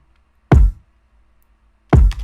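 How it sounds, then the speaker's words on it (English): A Louis Vuitton kick drum from a sample pack, thickened with a sausage fattener, hits twice alone with punchy low-end attacks about one and a half seconds apart, the second followed by a brief tail. "we have the kick right here, which is an Louis Vuitton kick from the sample pack"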